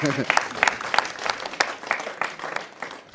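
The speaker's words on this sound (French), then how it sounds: "on va applaudir déjà M. Sanfo" An audience at a televised event applauds a man, with sparse, distinct claps popping out in an uneven rhythm while a voice talks briefly at the start.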